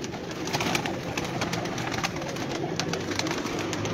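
Pigeons cooing at a loft kept by a fancier with a large mixed collection of breeds, a dense steady chorus of many birds close by with repeated soft calls overlapping throughout.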